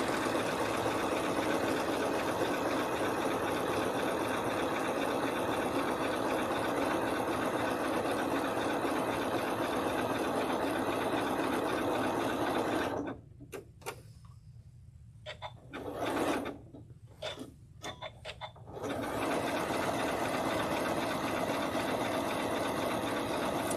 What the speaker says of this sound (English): So basically right now you're just sewing along those lines.